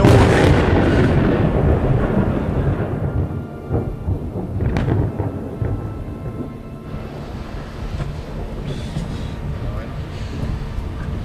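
A thunderstorm over a sailboat brings loud, close thunder rolling over heavy, steady rain. The deep rumble swells and fades across the whole stretch.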